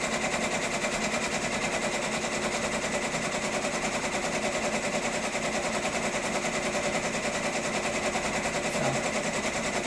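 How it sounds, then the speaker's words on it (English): A sewing machine steadily stitches out an embroidered letter, its rapid, even needle chatter running nonstop and close at a constant level throughout. "it's stitching out"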